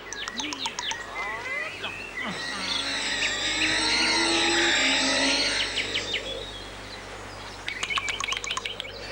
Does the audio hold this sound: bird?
yes